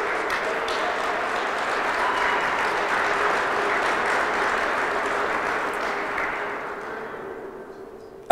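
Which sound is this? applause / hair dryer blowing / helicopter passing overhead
applause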